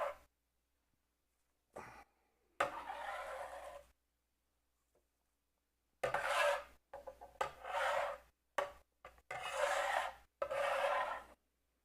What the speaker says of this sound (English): We're not even grating yet. We're just peeling.